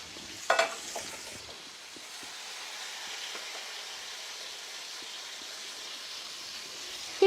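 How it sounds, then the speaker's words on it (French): Onions and tomatoes fry in a pan with a steady broadband sizzle that runs the whole time, a brief louder burst near the start as the vegetables hit the oil, and faint stirring scrapes underneath. "on va ajouter, d'un côté, vas-y, les oignons, les tomates, les oignons"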